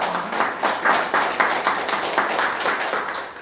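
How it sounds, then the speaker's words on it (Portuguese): A church congregation claps during a sermon, the clapping falling into a rough rhythmic beat of distinct pulses, moderately loud and close, with no talking over it. "Você pode dar um aplauso ao Senhor Jesus?"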